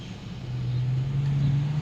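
Large cargo truck moving along a road, a low engine drone that swells and holds steady as it passes nearby, fairly loud over light street background.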